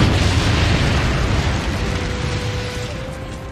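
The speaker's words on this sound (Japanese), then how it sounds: "火属性のダメージを受けたことでシャルティアの体が爆発。" Loud, sustained explosion as a body bursts apart from fire damage, a broad roaring blast that fills the whole stretch and slowly fades, with no voices over it.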